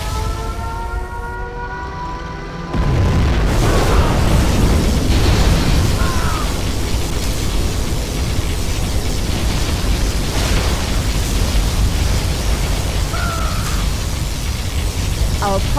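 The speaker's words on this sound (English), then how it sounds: "We have launched our nuclear missile." Nuclear missile strike in the strategy game Command & Conquer Generals Zero Hour, a sudden loud, sustained rumbling blast that starts after a quieter opening with a tonal alarm and keeps roaring at high level throughout, with brief whistling game effects over it.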